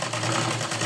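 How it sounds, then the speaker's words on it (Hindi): Sewing machine running a steady line of stitching on blouse fabric, a brief close continuous motor whir with no pauses or talk. "और यहाँ पे भी पक्की सिलाई कर लेंगे।"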